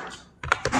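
A quick run of keystrokes on a computer keyboard during spreadsheet data entry in Excel, crisp and close, starting after a brief quiet pause with no talking.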